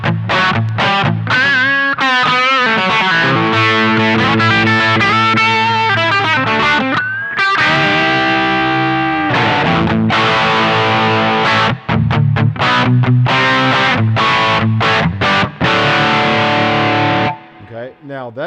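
Electric guitar played through a boost pedal into a Quilter direct amp, a loud, saturated overdriven tone with sustained chords and ringing lead notes, continuous and upfront for the whole passage before cutting off near the end.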